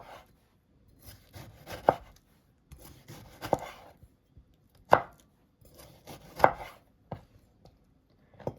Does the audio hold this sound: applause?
no